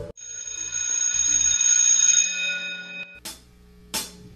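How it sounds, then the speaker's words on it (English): A notification bell chime rings out as a sustained, bright metallic tone that slowly fades, followed by two short, sharp clicking hits near the end. "please hit that notification bell so that you may be notified every time when I upload a video"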